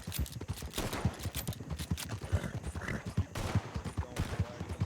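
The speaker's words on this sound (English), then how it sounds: "Stop shooting." Gunfire during a video game roleplay session near a moving wagon. Rapid, rhythmic cracks and thumps roll on steadily at a moderate distance, with a fairly even beat throughout.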